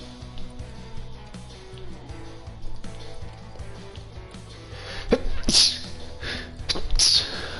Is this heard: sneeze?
yes